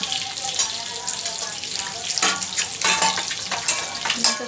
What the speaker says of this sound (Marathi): तर आपण याच्यामध्ये टोमॅटो फ्राय करून घेऊया.